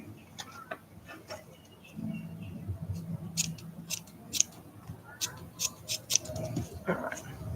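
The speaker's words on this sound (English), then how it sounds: "this fabric's a bit of a pain in the butt to cut sometimes" Scissors snip through fabric for an art doll in a run of sharp, close clicking cuts, unevenly spaced, over a quiet room.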